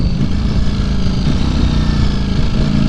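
A motorcycle with automatic shifting runs at steady, loud close range, its engine drone holding even with slight rises in revs.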